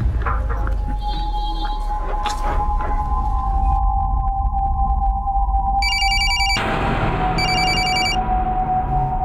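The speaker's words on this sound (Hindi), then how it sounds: "शोएब, प्लीज मेरा फोन पिकअप करो, अर्जेंट है।" A telephone rings with a steady electronic bell tone over a dark crime-drama scene, the ringing continuing in repeated bursts, loud and close, with background music and no speech.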